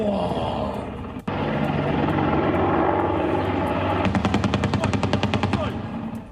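Loud, dense engine drone of a helicopter with a sudden sharp crack, then a rapid train of gunshot bursts fired from the helicopter at drones in quick succession near the end.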